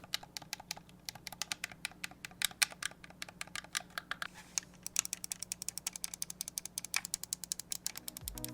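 Buttons on a HyperX Clutch Gladiate Xbox controller pressed over and over, a rapid run of sharp, close clicks with an even rhythm that turns denser in the second half, heard alone with no voices.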